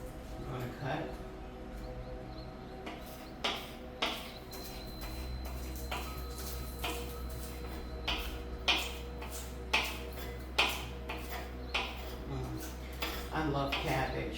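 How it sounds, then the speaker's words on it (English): A knife chops spring onions on a cutting board in a home kitchen, with sharp irregular taps that grow into a steadier run of cuts, over a low background hum and occasional speech. "So, now I have the spring onions. I'm gonna cut."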